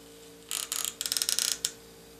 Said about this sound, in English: So you just push this lever down just the same way that you pulled it out.